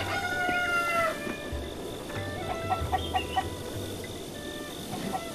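Chickens clucking in The Legend of Zelda: Breath of the Wild, several birds close by with short repeated clucks and a crowing-like call over a low rumbling background.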